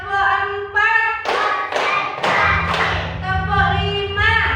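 A Grade 2 class in Indonesia runs through a counted clapping routine: a run of crisp, evenly spaced hand claps and thuds bracketed by a sung call at the start and end.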